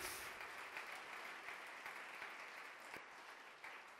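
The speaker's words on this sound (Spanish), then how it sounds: "Alguien dale un aplauso al Señor fuerte." A church congregation applauding during a sermon: a faint, steady wash of distant clapping from many hands, continuing evenly from start to finish.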